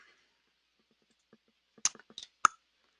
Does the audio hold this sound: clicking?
yes